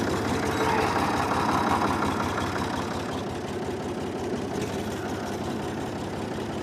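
A Ford 3000 tractor's diesel engine idles with a low, steady, rhythmic chug, close by and continuous throughout.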